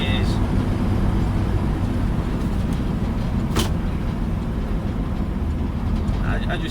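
A 1958 GMC Apache fleetside pickup drives along, its steady, loud low engine and road rumble filling the cab without letup, with a few brief higher rattles over it.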